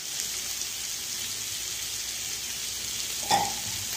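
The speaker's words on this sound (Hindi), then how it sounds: "दाल 1 मिनट फ्राई करने के बाद" Boiled dal frying in a pan with black pepper for a dal qeema pulao, making a faint, steady, hiss-like sizzle with one brief clink of a utensil near the end and no voices.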